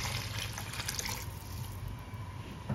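Water poured into a cooking pot for a Surinamese soup with smoked chicken, a soft steady trickling stream that is quiet and continuous, ending with a small clunk.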